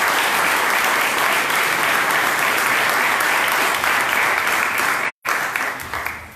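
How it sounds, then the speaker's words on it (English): Steady, dense round of applause from a community crowd at a grand opening celebration for a former building turned community center, loud and continuous, then cutting off abruptly before resuming more faintly. "So please give a round of applause for the Trib and Jennifer."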